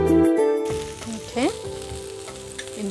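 Steady close sizzling and frying as amaranth leaves go into a pan of carrots and peas for paneer pulao, with a brief clattering stir and musical tones running underneath.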